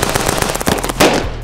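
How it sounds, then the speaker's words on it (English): Rapid bursts of gunfire crack out in a quick, uneven string, loud and close, with a heavier blast near the end and no voices over them. "gunshots"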